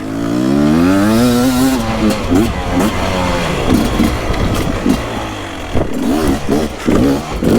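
A Beta 250 RR enduro motorcycle engine runs and revs up and down close by, its pitch rising and falling in repeated throttle bursts.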